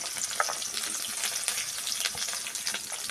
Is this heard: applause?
no